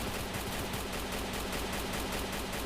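Rapid, steady automatic gunfire from a shooter video game rattles continuously in a dense, loud burst with no voices over it.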